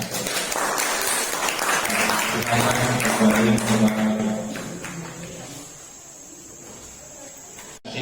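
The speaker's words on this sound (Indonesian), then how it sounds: "Beri tepuk tangan untuk kelompok 3." Classroom applause for a student group after their presentation, a dense burst of clapping mixed with voices during the first half, then thinning out into quieter room noise.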